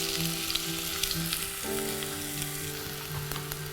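Onion frying in hot oil with cumin and cloves in a pan. A continuous close sizzle and crackle holds at an even level throughout, with no voices.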